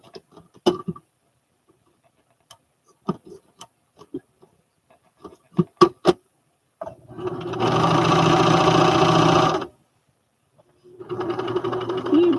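Domestic sewing machine stitching overall fabric in two bursts of steady whirring, one long and one shorter, each breaking off abruptly, with sparse clicks and handling knocks between them and people talking in the room.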